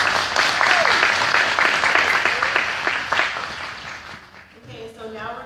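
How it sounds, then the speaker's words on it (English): A crowd at an AmeriCorps swearing-in ceremony gives a dense round of applause with many hands clapping together. The clapping fades away after about four seconds, and a voice speaks near the end. "Maybe another round of applause for Mrs."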